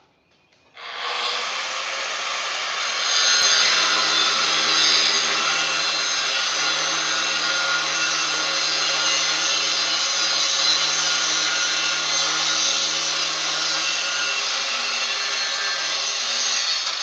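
A power saw cuts metal for custom engine mounts on a 1961 Ford F100, starting abruptly and then running as one loud, continuous, steady grinding whine with no pauses and no speech.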